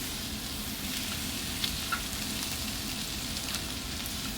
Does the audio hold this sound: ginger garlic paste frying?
yes